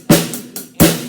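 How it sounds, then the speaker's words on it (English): Kick drum and hi-hat struck together twice, each a punchy low thump layered with a bright hiss, plus a lighter hi-hat tap between them, close and dry. "You can also just do your kick and a hi-hat together."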